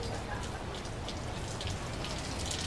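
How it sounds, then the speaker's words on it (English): Steady rain falling outdoors, a dense, even hiss of drops pattering on surfaces that stays constant and fairly soft throughout, with no voices. "So everyone's running to get out of the rain."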